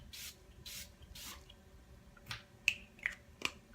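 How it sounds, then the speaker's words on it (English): Makeup setting spray mists onto a face in several short soft bursts, close and fairly quiet, followed by a few light clicks of the pump nozzle. "I'm just gonna spray myself down one more time just because I really love how this feels."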